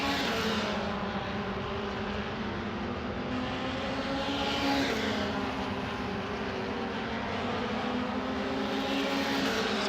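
Race cars in an MRF 2000 race pass through a right-hand corner on a circuit. Engines drone loud and continuous, with rising and falling sweeps as several cars go by, steady throughout.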